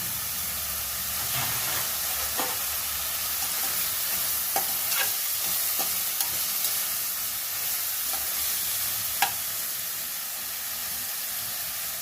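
Onions with salt and turmeric fry in a pan while being stirred, a steady close sizzle and hiss punctuated by occasional sharp scrapes of a spoon, with no voices over it.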